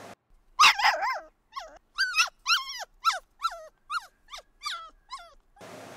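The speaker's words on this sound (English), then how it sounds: "Why were they barking?" Several dogs bark and yip in a string of sharp, high, close barks with short gaps between them, some with a whining edge, and no talking.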